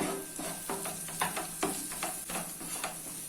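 Spices for goat head curry fry over a medium flame, a steady close sizzle broken by regular scraping strokes of a spoon stirring them around the pan.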